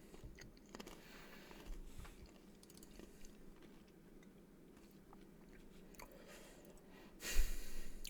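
Close, fairly quiet crunching and chewing of banana chips runs steadily through the clip, with a louder burst of crunch near the end.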